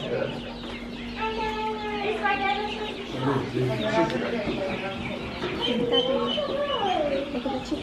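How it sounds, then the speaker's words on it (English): Chickens clucking at a dairy farm, several birds calling close by in repeated short clucks over a steady background, with people talking intermittently. "Look at the chickens."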